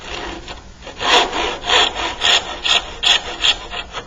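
Hand saw cutting a trench into wood for a pot stand: a close, rhythmic series of rasping strokes, about eight of them, growing sharper and more regular.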